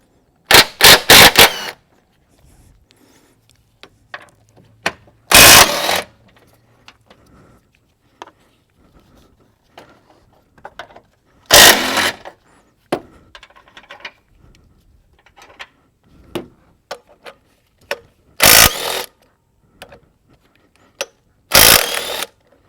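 Power tools remove engine mount bolts on a GM Ecotec 1.4L turbo, where a broken drive belt tensioner is being replaced. Five loud, short bursts of impact-gun rattling sound up close, separated by quiet stretches with faint clinks.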